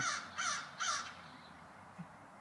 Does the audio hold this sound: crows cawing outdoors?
yes